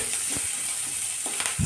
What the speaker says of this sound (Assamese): এই মাছবিলাক তেলতে দি দিছোঁ